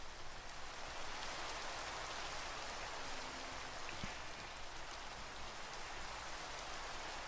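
Steady rain falls in the video game Minecraft, a constant hiss of drops pattering on surfaces throughout, even and unbroken with no voices over it.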